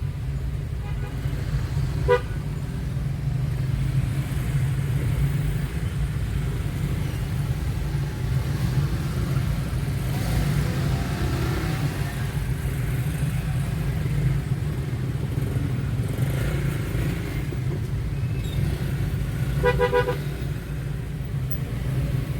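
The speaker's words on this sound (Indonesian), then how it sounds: "super sibuk sekali, macet total. Teman-teman lihat sendiri gimana macetnya," Heavy weekday traffic jam on a busy road packed with cars and many motorcycles: a continuous low engine rumble, with several short car horn toots breaking through, some nearby.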